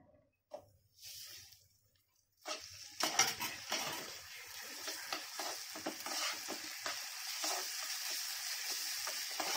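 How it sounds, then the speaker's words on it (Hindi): Fried cauliflower (gobhi) dropped into a pan and sautéing, a quiet sizzle with repeated stirring scrapes and clinks of utensil on metal, close and continuous after a brief near-silent start. "अभी हम फ्राइड गोभी इसमें डाल देते हैं।"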